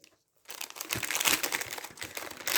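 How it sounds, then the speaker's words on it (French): Plastic packaging crinkles and crunches steadily as three small, cheap paint rollers are unwrapped by hand. The rustling is close and fairly loud, running continuously after a brief silent start. "Donc, je vais vous les déballer."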